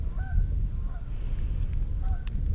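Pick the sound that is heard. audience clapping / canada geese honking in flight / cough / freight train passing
canada geese honking in flight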